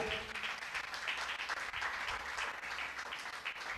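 A church congregation applauds together, a dense, continuous round of clapping at moderate distance that holds steady for the whole stretch.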